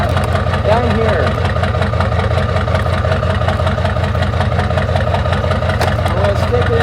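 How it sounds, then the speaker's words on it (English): A truck engine idles steadily at close range, a continuous low, throbbing rumble with a regular pulse that holds at an even level throughout, with no other distinct sounds rising above it. "so now the truck is started."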